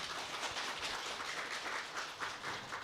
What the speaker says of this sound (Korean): 다시 한번 오늘 특강을 해주신 우리 강사님께 큰 박수 부탁드리겠습니다